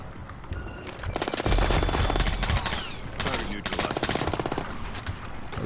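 Bursts of automatic gunfire in Splinter Cell Blacklist, loud rapid rattling volleys that start and stop in clusters, with speech faintly underneath.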